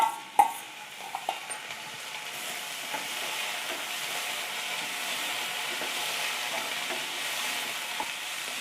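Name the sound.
cauliflower sautéing with onion and ginger-garlic paste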